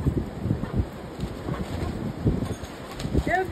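Strong outdoor wind buffets the microphone in steady low rumbling gusts, with a faint bird call near the end.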